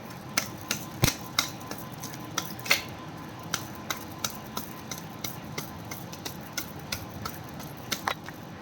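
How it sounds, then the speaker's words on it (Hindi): Tarot cards being shuffled by hand, a steady series of crisp, close snapping flicks spaced about every half second over a faint background hiss. "This is my last shuffle"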